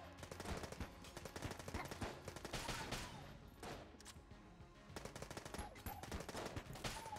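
Constant rapid shooting in the game Enter the Gungeon, dense rattling gunfire with bursts and impacts running almost without pause, fairly quiet overall.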